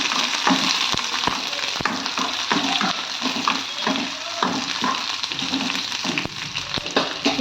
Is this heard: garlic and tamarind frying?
yes